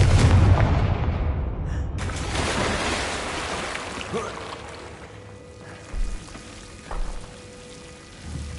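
A Confringo fire spell blast from Hogwarts Legacy opens with a heavy boom and a dense rushing roar that gradually dies away, followed by a few softer, low thumps spaced about a second apart.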